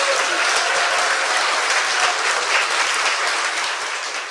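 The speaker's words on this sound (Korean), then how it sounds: "박수 한 번 더 주세요." Studio audience applause on a Korean talk show congratulating a newly elected lawmaker, a thick, loud wash of clapping that holds steady and eases slightly at the end.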